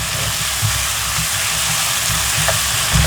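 Mutton karahi with spices and half a cup of milk fries in a pan, giving a continuous loud sizzling hiss with bubbling underneath.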